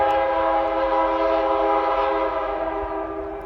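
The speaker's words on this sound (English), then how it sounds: "Boy, when that wind's right, that train horn is like right here." A train horn carries across open farmland, one sustained rich-toned blast that holds steady and slowly fades toward the end, clear and fairly strong despite the distance.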